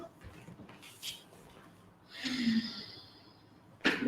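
Slow breathing during a yoga pose: a soft exhale and a longer audible breath through the nose, close and quiet in a calm room, with a faint voice briefly in the background.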